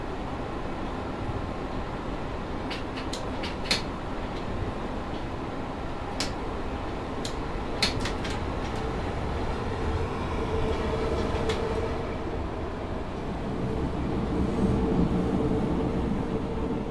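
A subway train in the SubwaySim 2 video game runs with a steady, continuous rumble and rolling rail noise. Brief clicks and clacks sound now and then over the constant drone.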